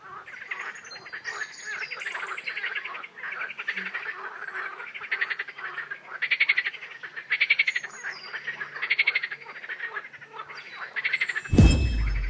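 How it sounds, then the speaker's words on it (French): A chorus of frogs croaking near vineyards in the Nantes wine country, dense rhythmic pulsing calls in repeated swelling bursts with faint bird chirps, ending in a sharp loud knock. "aujourd'hui, j'ai aussi eu droit à un concert de grenouilles"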